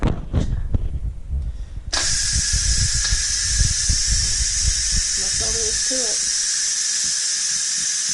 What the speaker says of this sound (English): I am going to open this up and let the steam out.